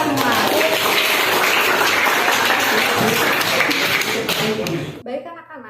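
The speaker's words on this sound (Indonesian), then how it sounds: "Tepuk tangan buat kita semua." A classroom of students applauds together in dense, steady clapping that carries on for about five seconds, then breaks off abruptly and leaves only faint room sound.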